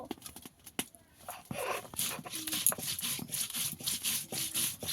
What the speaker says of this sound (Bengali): এখানে একটু বেশি পরিমাণে জিরে বেটে নেব।